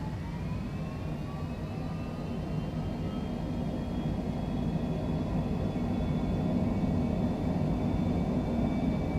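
Airliner jet engines spool up to takeoff thrust in a flight simulator, a broad rising roar and rumble with a climbing whine, building steadily louder over several seconds.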